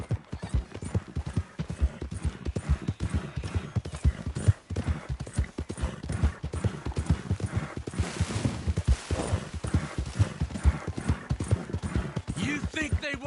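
Steady clip-clop of horse hooves in the Red Dead Redemption II video game, a brisk continuous trot running the whole time, close and fairly loud, with voices and other game sounds mixed underneath.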